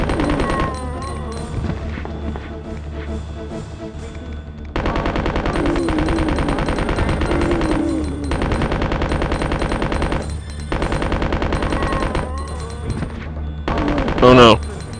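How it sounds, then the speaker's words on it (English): Machine gun fire aimed at zombies in the Resident Evil 2 video game, heard as dense, sustained automatic bursts over a game soundtrack, with a louder burst near the end. "I have run out of ammo for my machine gun."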